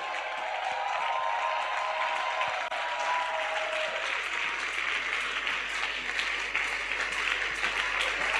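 A congregation applauds during a Sunday church service, dense sustained clapping filling the room at close range, with a voice heard briefly over it early on.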